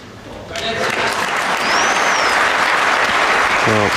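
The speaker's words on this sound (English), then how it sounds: "Well, there is applause" Snooker audience breaks into applause at a Northern Ireland match between Ronnie O'Sullivan and Ken Doherty, clapping swelling quickly and sustaining dense and loud, with a brief voice near the start.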